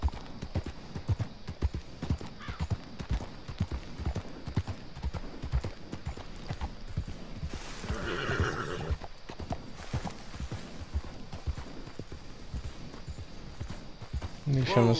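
Horse hooves clop in a steady walking rhythm throughout in the video game Red Dead Redemption 2, with a brief rustling burst partway through and a short louder sound at the end.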